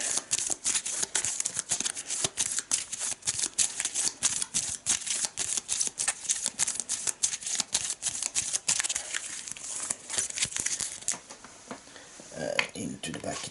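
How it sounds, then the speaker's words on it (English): A deck of Arkham Horror third edition board game cards being shuffled by hand, a rapid, steady riffling patter of close card flicks that slows and stops near the end. "We're gonna shuffle it together and put it in the back."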